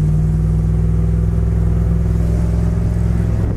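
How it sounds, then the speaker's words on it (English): A 1966 Ford Galaxie convertible with a 289 V8 cruises down the road, its engine giving a steady, loud low hum with a smooth even drone and no voices. "It's not going to win any races, but as far as a cruiser, it goes nice down the road."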